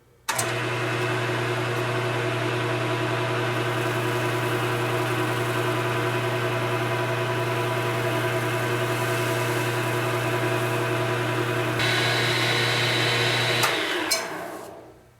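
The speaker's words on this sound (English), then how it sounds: "I cut and sanded the end of the handle" A power tool cuts and sands the end of a wooden woodturning-tool handle, with a loud steady motor whine and grinding running for about thirteen seconds before spinning down and stopping.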